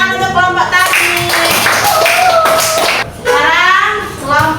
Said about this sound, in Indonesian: Tepuk tangan untuk kelompok tablik.